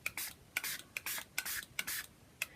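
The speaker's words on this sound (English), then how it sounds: "I'm just going to spray these with water now" Water sprayed from a spray bottle onto a page of coloured butterfly paper embellishments: a run of about seven short, close hissing bursts at a fairly regular pace, with no talking.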